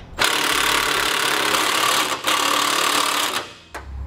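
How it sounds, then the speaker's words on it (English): Power tool whirring steadily as it tightens hitch bolts in a frame with a 3/4 inch socket while a Curt trailer hitch is installed on a 2015 Ford Transit T250, close up, with brief pauses before the motor stops. "now we'll tighten our hardware, beginning with the bolts that we installed in the frame, using a 3/4 inch socket"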